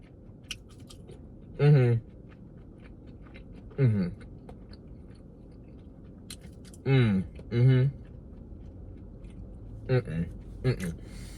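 Close, crunchy bites and chewing of crinkle cut fries in several separate bursts, with a voice talking between them.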